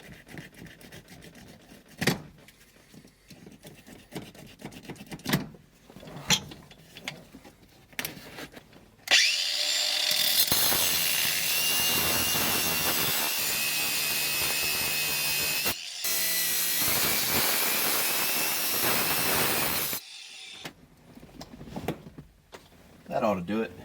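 A power tool cuts to enlarge the shifter hole in an E36 BMW interior during an LS1 swap, a loud, steady, high-pitched whine sustained for about ten seconds, with scattered clanks and handling noises before and after.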